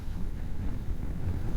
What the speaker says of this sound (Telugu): అమ్మో గాలి గట్టిగా కొడుతుంది.